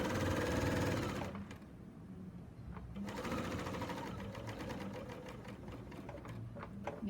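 A serger sewing binding onto a quilt, a steady close mechanical whir of rapid needle strokes running continuously, briefly slowing before resuming at full speed.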